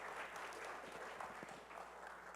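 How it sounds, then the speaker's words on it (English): An audience at a business expo panel applauds, a dense, even patter of clapping hands that sounds faint and distant and continues steadily throughout. "Please allow yourself to give them a round of applause."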